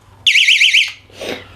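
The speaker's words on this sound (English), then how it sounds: "Now go ahead and switch it over to the alarm mode." A digital home security alarm switched to alarm mode gives a loud, shrill warbling siren for about half a second, then cuts off, followed by a brief fainter sound.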